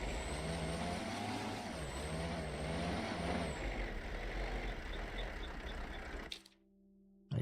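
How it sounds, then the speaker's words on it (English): Loud car engine in the hunting video game Way of the Hunter, a steady droning rumble with a whining tone and wavering pitch, running continuously and then cutting off abruptly near the end. "So loud, this goddamn car."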